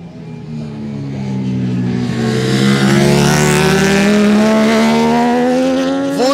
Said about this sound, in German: die Fahrer fahren hier direkt close vorbei